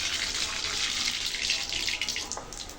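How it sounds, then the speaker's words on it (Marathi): Mustard seeds crackle and spit in hot oil in a kadhai wok, a dense steady hiss with fine popping, close and fairly loud, no voices. "आपण याच्यात मोहरी टाकलेली आहे।"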